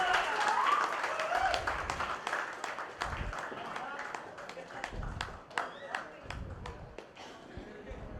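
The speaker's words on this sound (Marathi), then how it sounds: "टाळ्या आहे ना फक्त 30-40 लोक वाजवत आहेत" An audience in a hall of about 125 people at a Ganesh Utsav 2024 community event in Thane claps steadily, with only a portion joining in, a moderate continuous patter of hand claps with talking over it.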